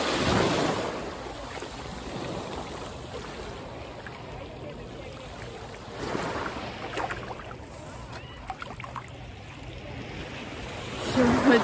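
Waves breaking at a sea shore on a quiet morning, a continuous soft roar with surges at the start, around six seconds and at the end, some wind and faint handling noise over it.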